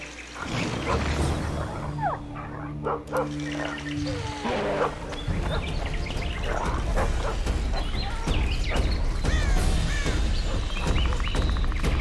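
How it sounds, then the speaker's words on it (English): A dog barks in The Witcher 2 amid growling, snarling creature sounds, loud and close, with repeated barks and noisy roars running through the whole stretch. "That's Grindley's dog."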